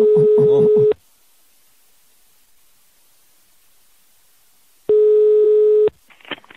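A telephone ringback tone plays while a prank call is placed, with one long ring, several seconds of silence, then a second ring, followed by the faint start of an answering voice.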